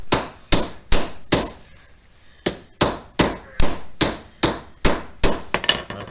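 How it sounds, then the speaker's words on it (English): Steel hammer driving a 3/4 inch socket against a front axle u-joint bearing cap on a 1994-2002 Dodge Ram 1500 4x4, about a dozen sharp, loud metallic taps in a steady rhythm with a brief pause, no talking. "just tapping one of the caps in on one side to get started"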